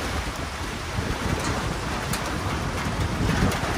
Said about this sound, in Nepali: म यो जस्ताको छानो हुँदाखेरि पानी पर्दाखेरि जुन आवाज आउँछ जस्ता कराएर पानीको आवाज